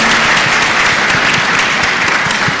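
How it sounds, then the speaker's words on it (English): Loud, dense applause from a crowd at a national exhibition, steady clapping throughout with no voices over it. "Big round of applause."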